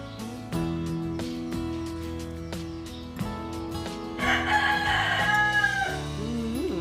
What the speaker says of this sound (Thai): เสียงไก่ก็คันดีจังเลยนะคะ